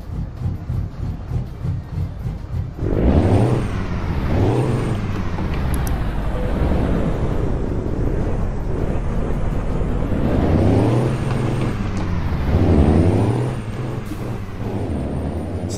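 A Peterbilt 379 heavy truck engine in a truck simulator game idles with a deep, steady rumble, rising in a few revs, with sharp air-brake hisses breaking through, loud and close.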